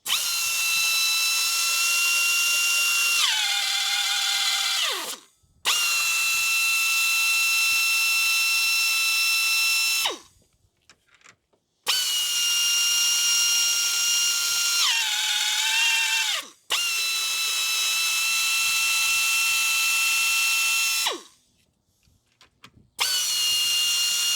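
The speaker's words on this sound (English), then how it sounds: "get your handy-dandy riveting tool, whichever one you got. You put those rivets into the holes, and then you sink them down." A powered riveting tool sets rivets in a van door as part of a door safety system install. It gives four loud whining bursts, each bogging down in pitch, with short silent gaps between them.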